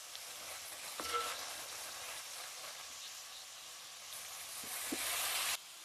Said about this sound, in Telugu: ఇప్పుడు దీంట్లో కడిగి పెట్టుకున్న మటన్ కీమా